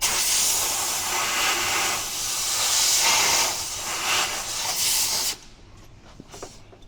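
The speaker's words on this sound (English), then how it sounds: "blow that rim out. Blow back the other way." Compressed air hisses loudly and continuously as it blasts out a wheel rim during a 6.7 Powerstroke oil change, wavering in strength for several seconds before cutting off, leaving faint clatter.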